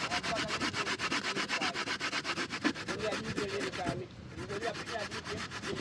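Coconut rubbed against a hand grater outdoors in Jamaica, heard up close as a rapid, rhythmic rasping scrape that carries on steadily with one brief pause, while voices murmur faintly in the background.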